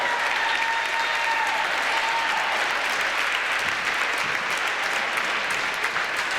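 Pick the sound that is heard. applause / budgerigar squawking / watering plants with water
applause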